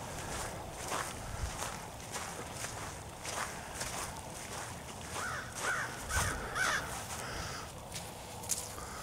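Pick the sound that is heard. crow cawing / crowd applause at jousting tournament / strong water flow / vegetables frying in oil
crow cawing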